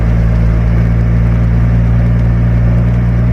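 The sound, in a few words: tug plow engine running after cold start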